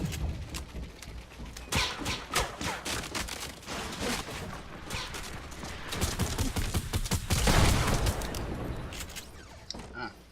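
Rapid gunfire in a battle royale video game, dense bursts of sharp shots and booms running almost continuously for ten seconds, loud and close with a louder stretch near the end and some talking mixed in.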